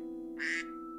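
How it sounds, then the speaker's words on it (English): A duck-quack phone notification gives one short, nasal electronic quack over a steady humming background tone. "if you hear a quack, quack, quack in the background, that's just my little pet ducky."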